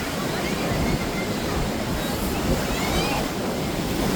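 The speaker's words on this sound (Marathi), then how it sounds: "लाटा बघा." Ocean waves on the Konkan coast near Harihareshwar, a continuous loud roar of surf mixed with wind buffeting the microphone, steady throughout with no clear breaks.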